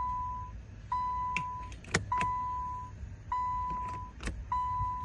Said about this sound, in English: So I'm going to press it and the parking brake is on.